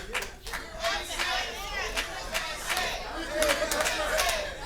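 A live wrestling crowd chants USA in a rhythmic, rowdy roar, with shouts and claps rising and falling in waves across the arena.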